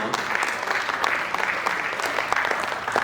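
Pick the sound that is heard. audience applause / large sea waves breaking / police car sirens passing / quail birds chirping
audience applause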